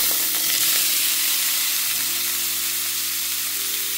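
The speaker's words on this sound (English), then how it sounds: "There's enough vegetable oil to coat the bottom of the pan, so I'm going to add in the meat to sear." Meat searing in vegetable oil in a hot pan on the stove, a loud steady sizzle and hiss, with a low humming tone running underneath throughout.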